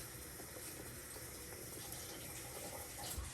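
Water runs steadily from a kitchen tap as a knife is rinsed, a faint continuous hiss and splash with a small knock near the end.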